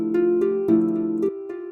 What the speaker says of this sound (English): So what you're hearing there is SSL native, tape delay.